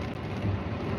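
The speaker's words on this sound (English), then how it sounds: "We have to get together and sing for this rain" Rain falls in a steady, dense hiss with a low rumble beneath it, continuous and fairly loud, and no voices.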